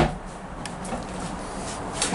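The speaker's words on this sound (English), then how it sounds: "when you open the door, the companionway, the upper hatch slides open too" On a 2019 Pursuit DC325 dual console boat, the companionway door opens as the upper hatch slides with it, a short close scraping and clunking of panels lasting about two seconds, with no talk.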